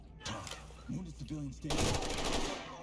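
Automatic gunfire from a weapon in a video game set in a medical center, erupting as a dense, loud burst in the second half after quieter game sounds and brief voice-like tones.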